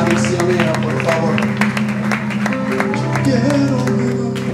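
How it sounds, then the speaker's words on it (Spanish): A church congregation applauds loudly during a service. The clapping runs steadily throughout, layered under a sustained musical drone and voices. "Den un aplauso fuerte a Cristo, fuerte, fuerte."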